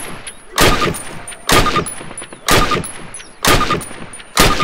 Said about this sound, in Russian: Подойди к ограждению и сделай 6 выстрелов по мишени.